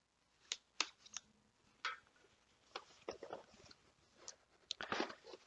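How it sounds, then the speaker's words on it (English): Quiet, crisp snips and clicks of tape being cut on a Steam Controller box, production model, landing as a series of separate short bursts at close range. "It's got another little piece of tape here. Let's cut that."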